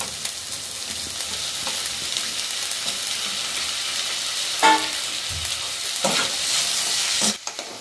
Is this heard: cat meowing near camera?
no